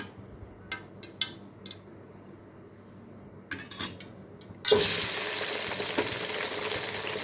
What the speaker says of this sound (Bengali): দিয়ে দিব কড়াইতে একটু তেল।